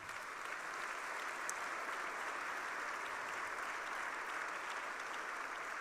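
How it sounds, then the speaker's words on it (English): A crowd at a Carmel, Indiana State of the City event gives Chief Sterling a round of applause, steady dense clapping that holds at an even level throughout, with no talk over it. "Everyone gives Chief Sterling a round of applause"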